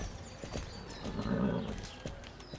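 A slow horse's hooves clip-clop in Star Stable Online, a steady rhythm of close, moderately loud footfalls with no talking.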